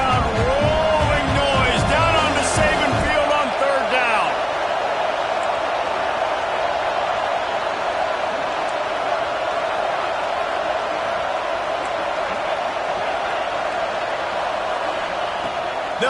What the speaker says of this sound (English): The Tide crowd rolling noise down on to save it